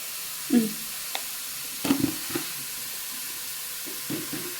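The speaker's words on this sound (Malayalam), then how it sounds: "ഇത് നന്നായിട്ട് ഇളക്കി നന്നായിട്ട് വരണ്ട് വരട്ടെ കേട്ടോ" Masala stirred in a pan, a few soft scraping strokes of a spoon against the metal at intervals, with a faint sizzle underneath.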